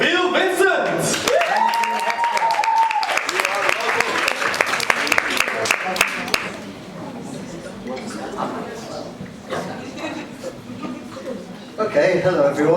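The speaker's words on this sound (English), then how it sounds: "So give a big round of applause to Bill Vincent!" Lively audience applause for a performer at an open mic night mixing poetry, theater and music, dense clapping and cheering that fades out, followed by a voice speaking.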